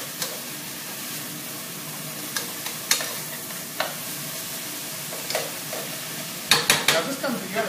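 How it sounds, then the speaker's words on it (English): Ground meat for chili sears in a hot pan with a constant sizzle, broken by sharp scraping and stirring knocks, the stirring growing busier and louder near the end; nobody speaks. "you're really kind of searing this meat correctly"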